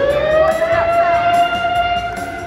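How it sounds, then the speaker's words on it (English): An outdoor emergency warning siren sounds during its weekly Saturday noon test, a steady sustained wail with layered tones running loud and continuous for the whole stretch, with no voices. "when they hear that siren that goes off every Saturday at noon, which is testing"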